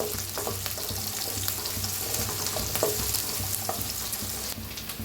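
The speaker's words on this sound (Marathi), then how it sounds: "तर आता पेस्ट बी कांदा छान असा भाजलेला आहे." Onion paste frying for chicken biryani, a steady close sizzle with occasional stirring scrapes and clicks, continuous for the whole stretch with no voices.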